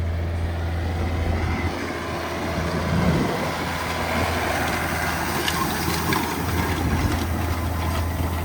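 A tractor engine, the 7.7, drones steadily while tedding freshly mown hay in a field, a constant low purr heard from moderate distance with no talking over it.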